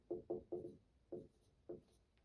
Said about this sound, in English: I'll just write it down anyway.